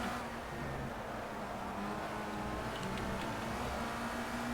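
A race car engine in the video game Project CARS, driven on cold tyres early in a race, drones steadily at moderate loudness with a sustained engine tone that shifts slightly in pitch, no talk over it.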